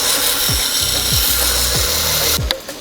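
A knife blade drawn across a coarse grit sharpening stone, giving steady continuous rasping with repeated stroke-like sweeps roughly every half second, fairly loud and close, ending in a brief clatter.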